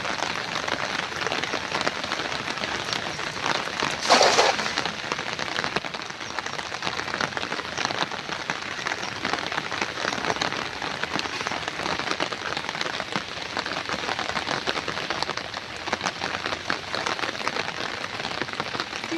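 Heavy rain pouring down in the Sundarbans, a dense steady hiss of drops hitting surfaces that runs unbroken throughout, with one brief louder splash early on.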